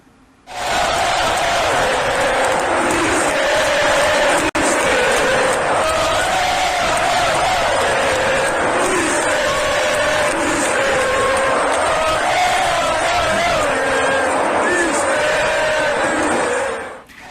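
A Flamengo football crowd chants together at the Maracanã stadium, a dense, sustained roar of thousands of voices singing in a steady rhythm throughout, loud and distant-sounding with no individual speech standing out.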